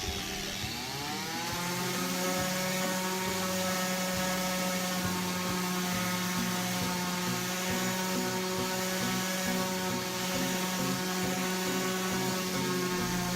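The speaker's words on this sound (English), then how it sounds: "I like to just round over the edges with the sander." Electric sander rounding over the edges of a wooden cutting board, a steady loud motor whine with a strong constant hum and rough grinding texture, running without pause and without talk.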